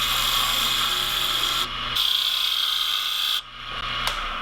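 Hand filing rasps steadily on a handmade fishing lure being sharpened, close and loud, with a brief pause and a couple of short breaks in the strokes.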